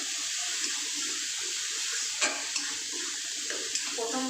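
Turmeric and Kashmiri chili mixed in water poured into a bata fish curry in the pan, a steady splashing pour with a soft bubbling hiss and a few light clinks, close and continuous.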